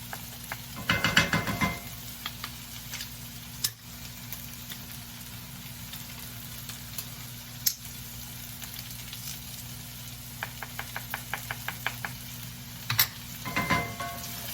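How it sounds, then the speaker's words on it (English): Beef, vegetables and garlic sizzle in a pan under a steady frying hiss, broken by several scraping, clattering bursts of stirring, close and fairly quiet. "Give it a nice stir. Get that garlic flavorful."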